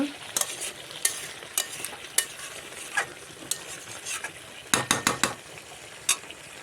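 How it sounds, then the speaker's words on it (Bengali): Chicken meat fries in oil with spices, a constant sizzle under repeated sharp scraping strokes of a spoon against the pan, several quick clusters near the end, close by and without speech. "তো দেখো মাংস কষা হয়ে যাচ্ছে, তেল সব ছেড়ে যাচ্ছে"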